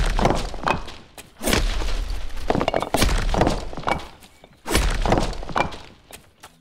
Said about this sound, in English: For destructible boxes, I recorded multiple samples of bricks and stones banging together.